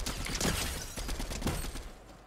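Bots fire at the player in a video game, a quick cluster of several sharp gunshot cracks at moderate volume over about two seconds, then fading quieter, with no talk.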